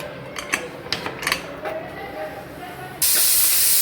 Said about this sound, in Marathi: आता आपण याच्यावर 4-5 शिट्या काढून घेऊया।